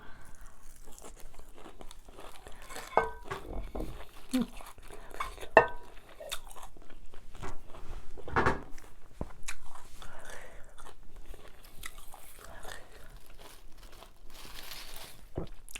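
Homegrown sweet produce being bitten and chewed close up, crisp crunches and wet chewing scattered across the stretch, with faint crinkling and light cutlery or dish clinks around it.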